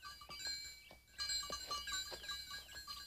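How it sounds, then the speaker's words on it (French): Herd of goats bleating in repeated wavering calls, several overlapping at moderate distance, with a faint bell jingling among them in an outdoor pasture. "C'est toi qui prends soin de toutes ces chèvres?"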